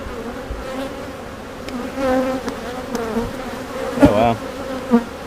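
Honeybees buzz at an open beehive during an inspection, a close, continuous drone with wavering pitch as individual bees pass near. A few louder swells rise above the steady hum, and no one talks.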